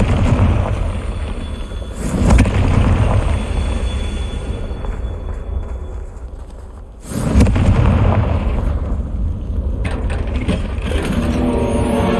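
Confringo fire-spell explosions in Hogwarts Legacy, two loud booming bursts several seconds apart over continuous rumbling combat noise, with no talking.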